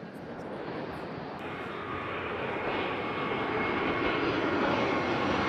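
An airplane in the landing pattern flies overhead near an airport, a loud steady engine roar that swells gradually and fills the whole stretch with no voices.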